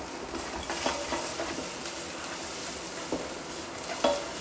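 Thinly sliced fresh chilli sizzles in a hot pan, a steady soft frying hiss with occasional faint crackles and stirring clicks, no voices over it.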